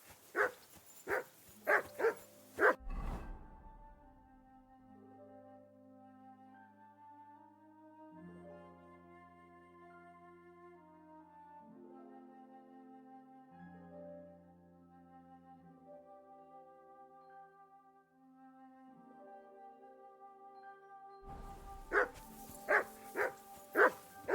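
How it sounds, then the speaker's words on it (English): A dog in the medieval role-playing game Kingdom Come: Deliverance 2 gives a quick run of loud, close barks, then stays quiet under a sustained musical score before a second burst of rapid barking at the end. "Quiet, you sleeping hound."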